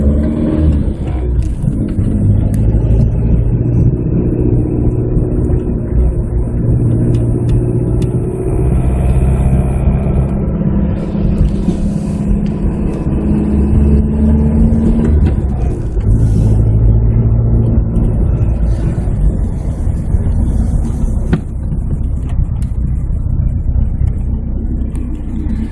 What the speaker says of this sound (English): Let's try to drive this car